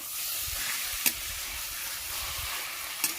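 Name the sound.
stirring taro leaf curry with a spatula after opening lid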